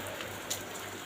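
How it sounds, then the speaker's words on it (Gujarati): Heavy rain pours down in a steady, dense hiss with no gaps and only a faint patter standing out, and no voices. "અટાણે પણ વરસાદ"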